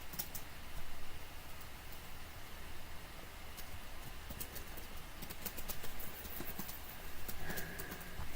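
Steady horse hooves clip-clop throughout a Crusader Kings 2 scene, a continuous mid-level trotting rhythm over a busy ambient bed with no voices.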